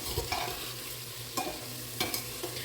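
A spoon stirs khichdi masala in a frying pan, giving a few scraping strokes over a soft, steady sizzle, close and fairly quiet, with no voices.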